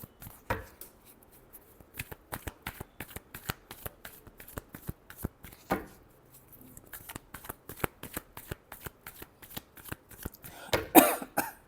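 A deck of tarot-style cards being shuffled up close, producing rapid rhythmic riffling bursts that repeat steadily, punctuated by a couple of soft coughs or throat clears, with a louder final shuffle at the end.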